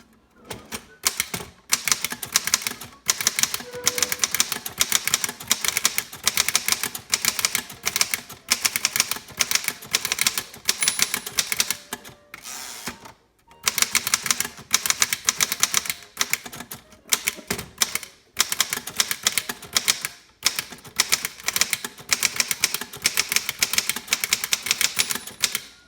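A 1928 Corona 4 portable typewriter typed in bursts of rapid, close key strikes with brief pauses between lines, the clacking loud and alone with no talk.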